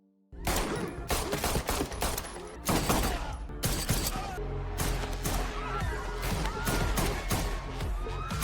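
Dense gunfire erupts during a nightclub shootout in a John Wick film, rapid loud shots and crashing impacts piling over pounding club music for several seconds.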